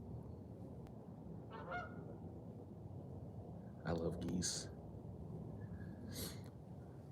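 Geese honk a few times at a distance, short harsh calls spaced apart over a faint outdoor background.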